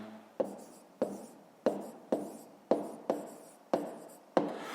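Handwriting on paper in a school exercise book, eight sharp scratchy pen strokes at a steady, roughly even pace, each one starting crisply and then fading, heard close with no voices.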